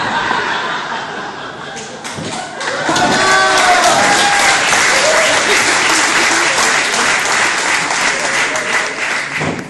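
An audience at a carnival campaign opening in Landau bursts into sustained applause that swells after a couple of seconds and holds, mixed with chuckles and scattered laughter.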